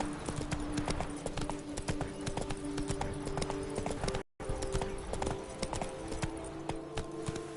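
Roach the horse gallops in a fantasy role-playing game, rapid rhythmic hoofbeats clopping steadily and close, broken by a brief dropout midway before the galloping resumes.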